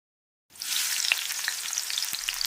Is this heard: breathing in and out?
no